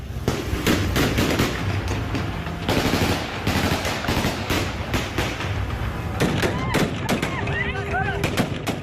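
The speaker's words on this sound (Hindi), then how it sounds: "वहां तालिबानी आ गए और उन्होंने गोलियां बरसानी शुरू कर दी" Rapid bursts of Taliban gunfire crack repeatedly in Kabul, dense and continuous shots with some louder volleys, mixed with distant shouting and crowd noise.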